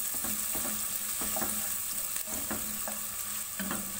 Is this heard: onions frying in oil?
yes